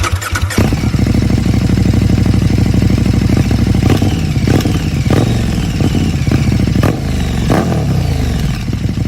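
A KTM motorcycle running a header exhaust with no catalytic converter idles loudly and close, punctuated by sharp throttle blips and raspy revs at irregular intervals over about nine seconds.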